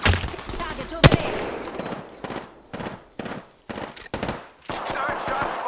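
Weapons fire in the battle royale game Apex Legends: loud, close bursts of rapid automatic gunfire broken by short pauses, with a voice talking between the volleys.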